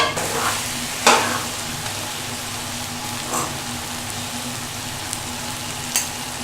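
Dal simmers and fries in a pot as cream is stirred in, a soft continuous sizzle broken by a few sharp spoon scrapes against the pot, close and without talk.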